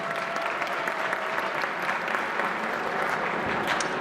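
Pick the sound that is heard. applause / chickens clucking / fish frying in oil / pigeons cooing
applause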